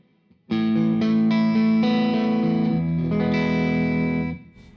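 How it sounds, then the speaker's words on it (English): A sustained electric guitar chord rings with heavy effects, its sound washed in roomy chamber reverb that blooms and fades as the strumming stops. "now we have a chamber reverb on top of that"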